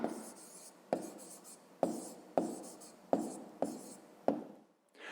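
Pen strokes scratch across paper as an answer is written by hand, several short, close, distinct scratches in an uneven rhythm in a quiet room.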